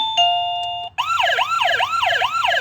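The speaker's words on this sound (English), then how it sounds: "That's the police car," After a short two-tone electronic chime, a doorbell plays a police car siren, a loud wailing electronic tone that rises and falls in quick repeated cycles, heard close with no talk.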